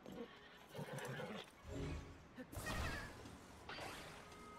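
A horse whinnies amid game sound effects, with a swoosh and clattering hooves, fairly close and brief.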